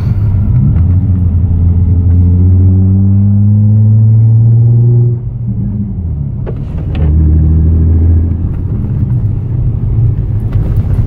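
A Nissan 350Z with a manual gearbox being driven, its engine droning loudly and steadily from inside the cabin, rising in pitch through a gear, dipping briefly around a shift, then pulling again.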